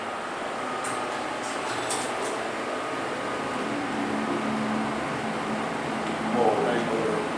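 Hydraulic freight elevator in a dining hall, with its motor running as a steady broadband hum and whir throughout. The sound stays fairly constant, and there is a faint squeak near the end.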